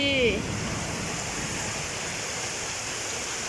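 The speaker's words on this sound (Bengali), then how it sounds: "দেখো কি জুড়ে বৃষ্টি চারদিকে অন্ধকার" Heavy rain falls at night in a continuous, even roar that fills the whole stretch, with a brief high whistling tone at the very start.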